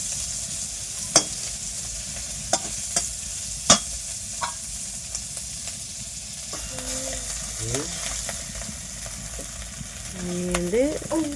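Food fries in a pan at a night street food stall and is stirred, with a steady close sizzle, sharp metallic scrapes and clanks of the utensil, and some tonal engine or mechanical hum near the end.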